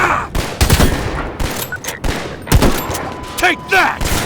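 Gunfire in Garry's Mod, sharp loud shots cracking in quick bursts and scattered single reports, with ringing tones, clinks and short game effects between them, close and punchy without clear talk.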